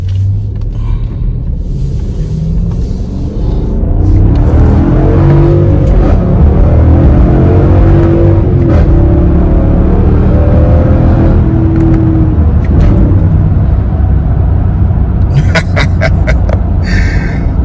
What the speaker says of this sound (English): That's how you make the exhaust clap.